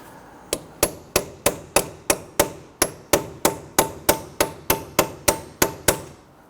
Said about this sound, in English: Now you want to use a punch.